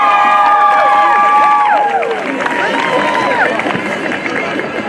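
A high school football stadium crowd cheers for the cheer squad, loud and far-spread, with high shouts and whoops above a roaring babble and some applause, starting strong and easing slightly.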